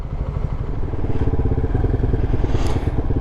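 A Peugeot PM-01 125cc motorcycle engine idles and revs close by, a loud, steady mechanical pulse with rapid firing beats and a brief rise in pitch near the end.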